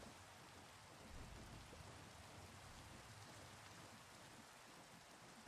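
Minecraft rain falling in a steady, even patter, fairly quiet and continuous with no voices over it.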